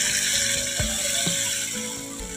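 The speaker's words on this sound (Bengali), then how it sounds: "এবারে জল দিয়ে দিলাম" Water pours into a pan of cooking fish and eggplant sour-spicy curry with melted tomatoes, a bright splashing rush with a couple of clunks from the bowl, fading slightly toward the end.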